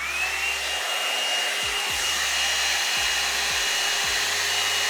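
Hair dryer blowing steadily and loudly at close range as hair is blow-dried at the roots, a continuous broadband whoosh running the whole time with a few low bumps from handling.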